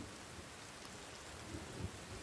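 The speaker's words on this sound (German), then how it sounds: "Danke für den Regen!" Steady rain hiss from the survival horror game The Forest, a faint, even wash of falling rain with a few soft low rumbles, no voices.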